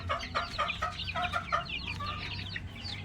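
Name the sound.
newly hatched chicks peeping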